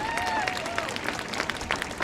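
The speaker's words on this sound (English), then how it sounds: "Let's hear a round of applause for Senator Schumer." A crowd at an outdoor commemoration in Times Square claps steadily in a dense wash of applause, with a few whistles rising above it.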